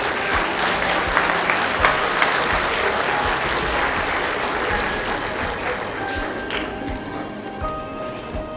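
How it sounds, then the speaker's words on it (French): An award ceremony audience applauds a departing institute staff member with sustained, dense clapping for over eight seconds that tapers slightly near the end, where faint tonal sounds appear over the fading applause. "Applaudissements et applaudissements."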